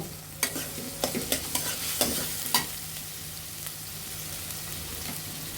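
Whole nigella seeds dropped into hot oil for a mola fish bhuna: a faint, steady sizzle with a run of sharp crackles and pops in the first half that then settles into an even hiss.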